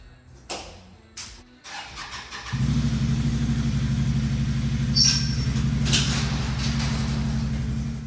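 A Can-Am Outlander 570 ATV engine cranks with a few short starter bursts, then catches and settles into a steady, close, throbbing idle as it warms up, with a couple of light clicks on top.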